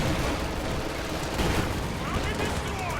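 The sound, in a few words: Stuka barrage explosions in Company of Heroes 2 video game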